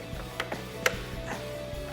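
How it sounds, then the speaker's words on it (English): Plastic clips snapping loose as a flathead screwdriver pries the black mesh upper grille insert off a 2013-2018 Ram truck: a few faint, sharp clicks and pops spaced irregularly over a low steady background hum, with one louder snap in the middle. "You'll hear them snap out of place."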